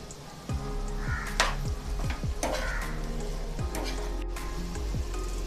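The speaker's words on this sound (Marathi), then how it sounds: "मिक्स करून घेऊया" Chicken fried rice with chopped chicken pieces and scrambled egg being stirred in a hot pan, a steady sizzle under repeated scraping strokes of the spatula, close and fairly loud, no talking.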